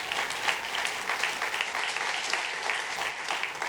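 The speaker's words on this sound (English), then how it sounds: "I should have a round of applause for that." Audience applause at a university dedication ceremony for a new public policy school building, a dense continuous clapping from a large crowd that holds steady throughout.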